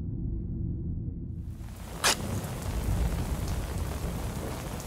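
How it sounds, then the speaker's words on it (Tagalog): Heavy rain pours down steadily in a dense, continuous roar, with a single sharp crack partway through, in a dramatized storm scene. "kasunod noon ay ang pagbuhos ng malakas na ulan"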